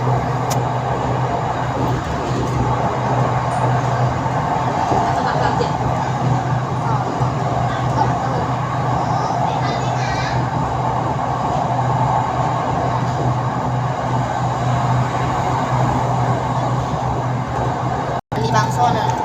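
Red Line electric commuter train on the Taling Chan–Bang Son line pulling into Bang Son station in Bangkok, heard from inside as a loud, steady rolling rumble with a low hum and broad noise throughout.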